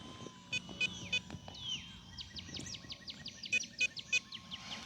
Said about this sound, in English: I have no clue what that obnoxious beeping is, but it's really annoying.